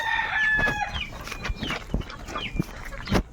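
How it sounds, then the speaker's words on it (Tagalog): Chickens and chicks cluck and peep close by, with high thin chick cheeps over sharper hen clucks and scattered scratching noises throughout. "Ang dami chicken sisiw guys"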